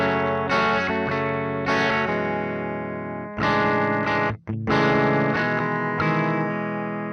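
Electric guitar chords played through a Quad Cortex with ambient wet effects, several sustained strummed chords ringing out with lush chorus-like shimmer and reverb tails, loud and alone, with a brief gap near the middle.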